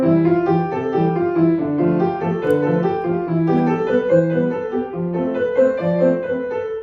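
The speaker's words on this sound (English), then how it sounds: "While the right hand plays Hanon exercises, the left hand is playing the machixe rhythm." Piano plays fast running Hanon exercise patterns in the right hand over a syncopated, bouncing maxixe bass rhythm, steady and close throughout.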